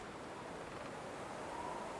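Wind gusts across the snowy wilderness of the video game The Long Dark, a continuous breathy rush that swells slightly toward the end, with no other sounds.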